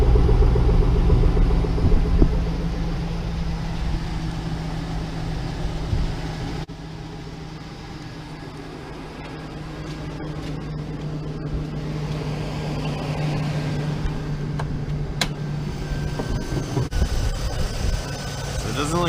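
A Datsun Z car engine runs at a steady idle while warming up, a low continuous rumble close by that dips slightly midway, with someone talking over it at times.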